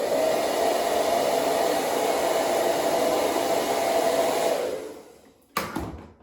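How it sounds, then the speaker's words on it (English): A hair dryer blows steadily and loudly onto a big beard for about five seconds, then winds down and cuts off with a brief click at the end. "or you can grab a hair dryer"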